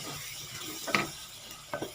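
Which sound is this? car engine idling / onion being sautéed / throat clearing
onion being sautéed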